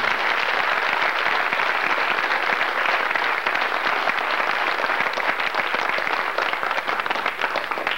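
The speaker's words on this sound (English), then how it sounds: "how about just a general overall applause for a great senior class?" A football banquet audience gives the senior class a sustained round of applause, dense clapping from many hands that stays full and even from start to finish.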